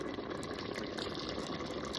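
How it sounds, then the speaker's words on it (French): Boiling water pours into a Cookeo multicooker pot over paella rice, a steady broadband gush lasting throughout without pause, close and fairly loud, with no voices. "on va mettre l'eau bouillante"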